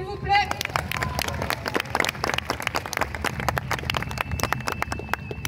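Hooves of a horse galloping at a knights' tournament, beating in a quick steady rhythm under crowd applause and clapping, with a few voices in the mix.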